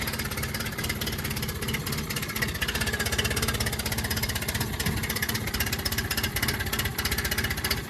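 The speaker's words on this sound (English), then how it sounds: "Let's get it fired up." A Yamaha 9.9hp outboard motor, in neutral after a primer bulb replacement, runs with a loud, steady, rapid chugging throb that continues without break, close by.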